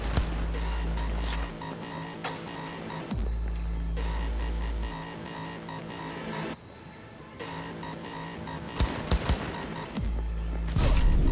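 Gunfire in the Cyberpunk video game, heard as bursts of shots over a constant low electronic hum and game music, with louder sharp reports near the end.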